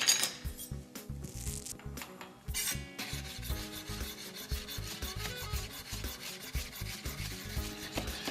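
A kitchen knife roughly chops leftover peaches with the skin on against a cutting board, a quick run of steady knocking strokes, close and fairly loud.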